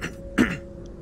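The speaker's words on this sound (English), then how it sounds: "sorry for clearing my throat so much" A single short, raspy throat clearing, close and fairly quiet, with no other sounds around it.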